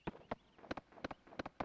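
Horse hooves clip-clop in Suikoden III played on original hardware, a quiet, crisp series of paired hoof strikes in an uneven walking rhythm.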